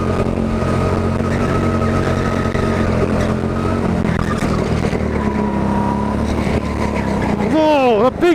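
A go-kart at Teamsport's indoor karting track in Sheffield, with a loud, continuous engine drone that holds steady and then rises and falls sharply in pitch near the end as the kart drifts through a corner, close and dominant.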